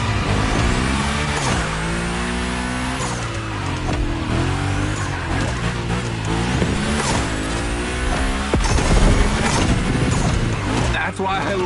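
A car slides and drifts through a Gymkhana course with a wrecking ball on site. Its engine revs rise and fall continuously and the tires squeal during the slides. The sound is loud and close, and speech can be heard under it.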